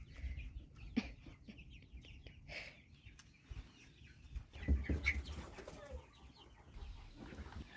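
Backyard chickens clucking softly in an outdoor run as a newly integrated flock ventures out, scattered clucks and a few chirps at moderate distance in a quiet setting.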